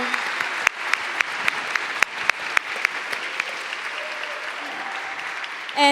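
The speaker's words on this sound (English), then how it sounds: "Let's give another round of applause to their amazing work" An audience applauds at a congregation gathering, with dense, steady clapping throughout and a few sharper individual claps standing out.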